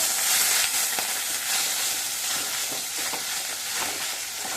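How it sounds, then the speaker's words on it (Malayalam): Food frying with pepper powder hisses loudly and steadily in a pan while it is stirred, a dense close sizzle with faint scraping strokes underneath. "ഇങ്ങനെ ഒന്ന് ഇളക്കണം"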